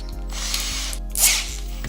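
A cheap drill-powered nibbler cutting metal gives a steady mechanical whir with rapid rhythmic clicking from its up-and-down punching action, close and alone, with a brief rise in pitch midway.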